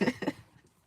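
Two quick, close coughs from a person who is sick, sharp and back to back, then fading into near silence.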